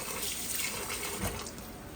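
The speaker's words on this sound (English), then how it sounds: "I pour some white vinegar over it and I rinse it off" Tap water runs steadily into a sink, splashing and shifting slightly as raw chicken is rinsed under the stream, close and without talk.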